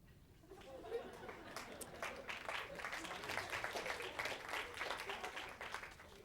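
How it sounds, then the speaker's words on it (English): An audience breaks into applause at a school performance, scattered claps building into steady clapping that holds for several seconds, moderately distant, with faint chatter underneath. "You don't have to clap after all of them."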